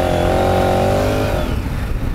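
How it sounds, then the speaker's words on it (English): A big adventure motorcycle ridden off-road through deep powder like a dirt bike, its engine a loud, steady drone that eases off about two-thirds of the way through. No one speaks. "We're riding these like off-road dirt bikes."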